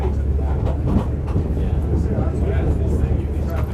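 A loud, steady rumble of a London tube stock train rolling past on the Epping to Ongar Railway, with a continuous rushing roar and clatter that holds at the same level throughout.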